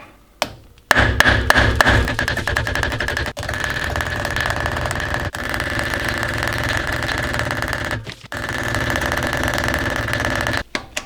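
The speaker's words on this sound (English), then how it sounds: "put the nuts back on just a little bit and hit it with a hammer for these" A hammer rapidly and loudly strikes the nuts on a Lexus LX470 CV axle to free the cone washers, in long sustained bursts with short pauses between them.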